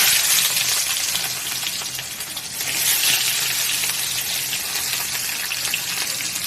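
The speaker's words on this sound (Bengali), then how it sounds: "পেঁয়াজটা লাল লাল করে ভেজে নেব" Chopped onion fries in a pan for chicken garlic bread, giving a loud, continuous sizzling hiss that briefly dips and swells again, close and with no talking.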